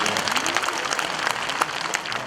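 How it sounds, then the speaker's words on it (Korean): Brief round of applause from the audience at a residents' meeting in a hall, steady scattered clapping at moderate volume with no speech over it. "의성 국민들을 위해 목소리 내신 분들께도 뜨거운 박수 좀 부탁드리겠습니다."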